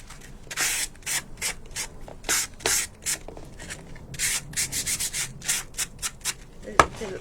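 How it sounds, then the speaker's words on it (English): Repeated scratchy rubbing strokes of a sanding block on a surface, close up, in an uneven back-and-forth rhythm with brief pauses between passes. "I'm just going to take a little sanding block"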